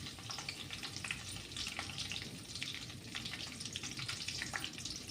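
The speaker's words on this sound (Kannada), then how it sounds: "ಸ್ವಲ್ಪ ಕರಿಬೇವು, ಹಾಕಿ ಫ್ರೈ ಮಾಡ್ಕೊಳ್ಳಿ" Curry leaves frying in hot oil for a tempering, a steady crackling sizzle with dense popping throughout, fairly faint and close with no talk.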